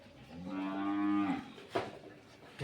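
A Beetal goat on a farm gives one long, deep, drawn-out bleat close by, followed by a short sharp call. No one speaks.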